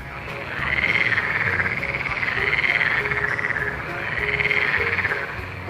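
A toad croaks in a steady chorus of trilling calls that swell and fade in repeating waves over a continuous hum of background noise, fairly close and with no voices over it.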